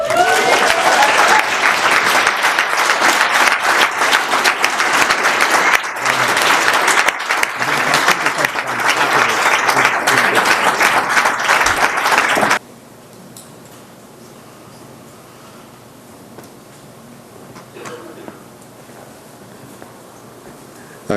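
An audience claps loudly and densely for about twelve seconds, then the applause cuts off abruptly, leaving faint room noise.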